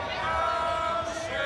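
Stadium crowd at a women's football match between Adelaide United and Melbourne Victory reacting against a referee's yellow card, a sustained murmuring roar of many voices at moderate distance, steady throughout without a sharp peak.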